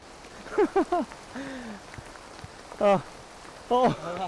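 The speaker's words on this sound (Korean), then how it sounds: "빗방울이 점점 굵어지자" Steady rain patters in the background along a mountain path in Taroko Gorge, Taiwan, while several voices speak in short bursts, the drizzle continuing underneath throughout.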